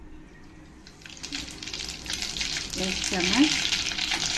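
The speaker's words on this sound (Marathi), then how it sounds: "तेल 2 चमच तेल ठेवलंय तापाशी. आता त्याच्यामध्ये राई जिरा टाकूया" Mustard and cumin seeds hit about two spoons of hot oil in a home kitchen pan, sizzling and crackling steadily and growing louder over a few seconds, with brief speech over it.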